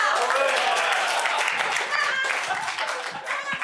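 Studio audience at a French-language comedy show applauding, a dense wash of clapping hands that holds steady and loud throughout with some voices mixed in.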